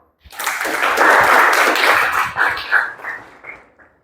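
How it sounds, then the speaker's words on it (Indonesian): Audience applause in a school classroom, a burst of many hands clapping that swells quickly, holds steady for a couple of seconds, then thins out into scattered claps and fades. "Berikan aplaus untuk semua"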